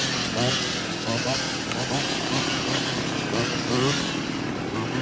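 A STIHL chainsaw engine revs steadily and loudly throughout during hazelnut season work, its dense droning roar holding near-constant level with no pauses, while voices talk faintly underneath.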